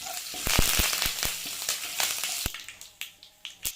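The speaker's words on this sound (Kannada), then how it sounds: "ಈಗ ಇದಿಷ್ಟನ್ನು ಆ್ಯಡ್ ಮಾಡಿದಾದ್ಮೇಲೆ ಸ್ವಲ್ಪ ಚೆನ್ನಾಗಿ ಫ್ರೈ ಮಾಡ್ಕೊಳ್ಳಿ." Red chilies and curry leaves fry in hot oil, giving a loud burst of spattering pops and crackles that thin out into scattered sharp snaps over a few seconds, with no voices.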